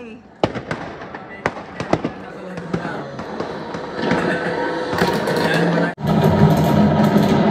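New Year's Eve fireworks in the UK crack and pop in sharp irregular bursts, then build into a dense rumbling barrage, with people talking and cheering underneath.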